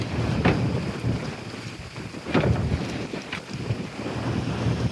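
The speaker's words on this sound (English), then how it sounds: "You can see it's a windy day" Gusty wind buffets the microphone beside a 2021 Boston Whaler 330 Outrage on a windy day, with rumbling bursts and a steady roar and faint water lapping underneath, no talking.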